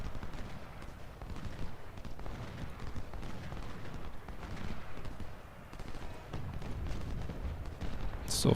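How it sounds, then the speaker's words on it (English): Artillery and massed gunfire on a Civil War battlefield at Shiloh in Ultimate General: Civil War. A steady, dense rumble of distant firing rolls on throughout without pause. "Our artillery's firing, but it's probably too far out."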